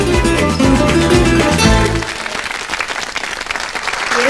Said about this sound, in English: Yes, a very big applause